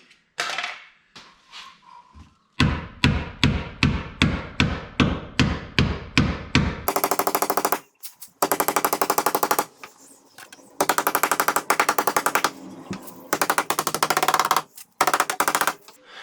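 Rapid hammering on the plastic wheel-well liner of an FJ Cruiser fitted with 35-inch tires, first a steady run of evenly spaced loud blows, then long dense bursts of fast rattling impacts broken by short pauses, close and harsh.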